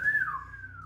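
A single short whistled note that slides down in pitch and then holds, clear and close.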